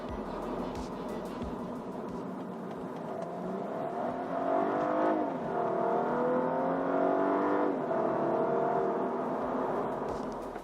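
A twin-turbo Cadillac CTS-V Sport engine on a test drive: a steady, loud drone that climbs and falls in pitch as the revs build and ease off, heard continuously from inside the car.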